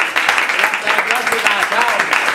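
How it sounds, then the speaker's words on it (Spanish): Audience applause at a storytelling session at La Casa Roja: close, loud, brisk clapping from a small group, with voices mixed in through the burst. "Un fuerte aplauso para los compañeros de la Casa Roja y para todos ustedes."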